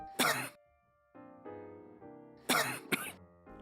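Two sets of harsh, forceful coughs separated by a short pause, the reflexive kind that expels a swallowed substance, with throaty gasping breaths in between, close and fairly quiet.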